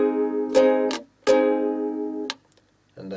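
Ukulele strumming a chorus pattern played slowly: a few bright chord strums with muted percussive breaks between them, close and clear, ending on a short chord after a pause.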